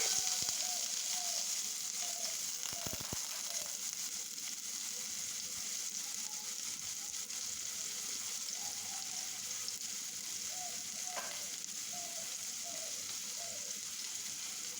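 Onion frying in hot oil in a cooking pot makes a constant, fairly soft sizzle, with a few scraping knocks near the start and faint stirring clinks later, no voices.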